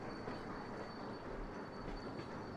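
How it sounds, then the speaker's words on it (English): A train rolls through a rail intersection in the video game Sweet Transit, a steady low rumble of wheels and cars running continuously at moderate volume with no talk. "now that train can kind of move through here"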